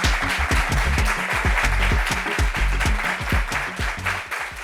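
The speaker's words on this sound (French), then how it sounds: "juste Enoch, qu'on applaudit tout de suite." A studio audience at a French-language talk show claps in a steady, brisk round of applause, many hands close together and fairly loud, with no voices over it.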